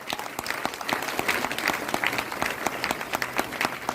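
An indoor crowd at a gathering breaks into loud, sustained clapping for a doctor, dense and continuous for several seconds.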